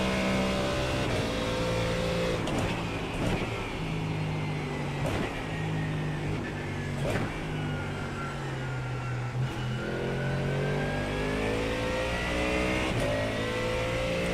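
Ford Mustang race car in iRacing, its engine droning and revving steadily throughout with repeated rises and falls through gear shifts, heard from a close in-car perspective with no talking.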